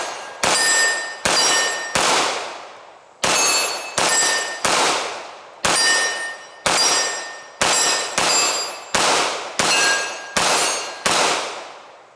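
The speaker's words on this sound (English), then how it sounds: "shooting hand loads here. 124 grain bullet running at about 1080" Sig Sauer P320 pistol fires 124 grain hand loads at an outdoor range, a dozen loud sharp shots at a steady, unhurried pace with ringing decay after each, no talking.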